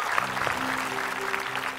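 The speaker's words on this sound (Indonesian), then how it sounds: "tepuk tangan sekali lagi untuk peserta yang pertama" Brief, moderate applause from a studio audience greets the first contestant at a singing audition, a steady patter of clapping with a faint voice and tone running beneath.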